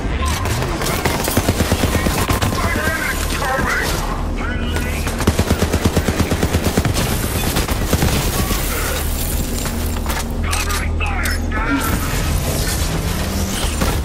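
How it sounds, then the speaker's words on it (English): Rapid automatic gunfire from a Borderlands 3 firefight: dense, rhythmic bursts of shots with booming impacts run loud and nearly continuous, with brief talk mixed in. "Stop shooting at me."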